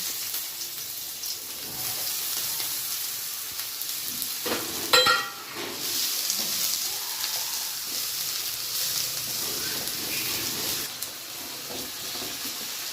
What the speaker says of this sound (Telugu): ఇప్పుడు మనము ఇంకొంచెం ఆయిల్ వేసుకొని బీరకాయ ముక్కల్ని లైట్గా ఫ్రై చేసుకున్నాము